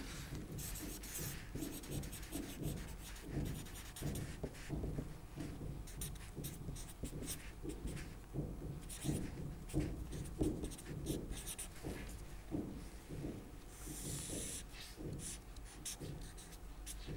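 Steady scratching and tapping of a pen or marker writing and sketching during a lecture, a quiet, close, irregular rhythm of short strokes running throughout with no talk.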